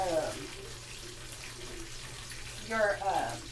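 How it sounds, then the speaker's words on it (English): A kitchen tap runs water while sweet corn on the cob is rinsed, a soft steady stream under brief bursts of speech at the start and end. "rinse it off. Give it a nice little rinse"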